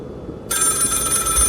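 A telephone in an ordinary cabin in The Cabin Factory video game starts ringing abruptly after a quiet moment, a bright, continuous electronic trill with no talk over it.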